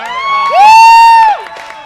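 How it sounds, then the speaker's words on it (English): Crowd at a Pride podcast roundtable event letting out a loud, sustained whoop of cheering with a high held shout rising over it, fading quickly into lighter crowd noise. "let's give a round of applause for Bill, Janisse"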